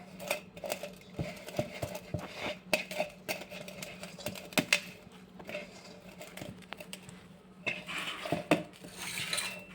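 Leftover-rice cutlet ingredients and crumbled bread are worked together by hand in a bowl, giving irregular soft clinks, scrapes and pats that come close and fairly quiet, with no talking.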